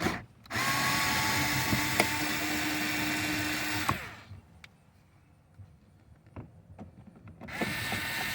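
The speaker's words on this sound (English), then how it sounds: "I'm going to use my little Ryobi driver here to remove this Phillips screw here." Close, whirring buzz of a small Ryobi power driver backing out a Phillips screw on a 2010 Subaru Forester door panel, one sustained run followed by quieter handling clicks and a brief second burst.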